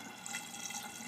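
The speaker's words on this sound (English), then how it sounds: "just overflows into this pipe at the set level" Water in a desert aquaponics system spills steadily over into a pipe at a set level, a soft continuous trickle and splash, faint and even throughout.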